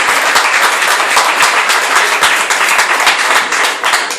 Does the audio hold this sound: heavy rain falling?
no